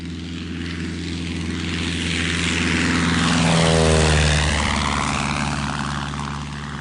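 Propeller plane engine used as a radio drama sound effect, a steady droning roar that swells louder toward the middle and then eases off as if passing by, heard alone.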